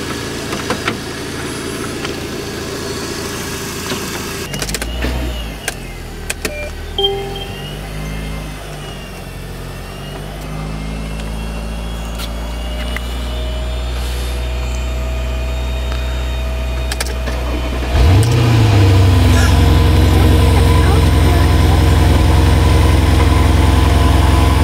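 A camper's car with a flat starter battery, jump-started at a campsite, runs as a steady low engine drone that grows louder and heavier toward the end, with no talking.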